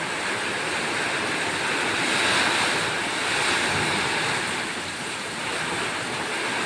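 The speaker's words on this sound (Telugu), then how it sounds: "గాలి వాన గాలి వాన" Strong wind and rain storm roars in a continuous, heavy rush with a dense wash of storm noise, swelling and easing slightly, with no voices.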